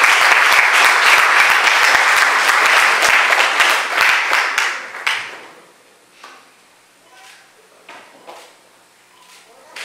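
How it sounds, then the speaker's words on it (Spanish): A church congregation claps in a dense, lively burst that tapers off after about five seconds, leaving a few scattered claps and soft knocks in a quiet room. "Damos un aplauso al Señor."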